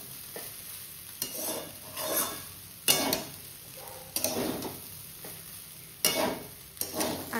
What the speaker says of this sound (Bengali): ভালো মতো ফ্রাই করে নেব